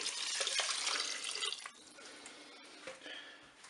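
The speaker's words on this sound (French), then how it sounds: "On va recouvrir bien, tous nos ingrédients avec de l'eau." Water poured over rice, mushrooms, chicken and lemon in a Cookeo multicooker, a soft, close splashing pour that fades into light trickling and drips.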